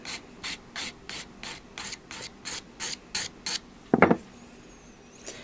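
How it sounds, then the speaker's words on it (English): Crystal nail file cutting excess film off nail edges, about a dozen quick even rasping strokes in a steady rhythm, close and crisp, followed by a brief louder scrape. "Then just take your crystal file and cut the excess film off the edges."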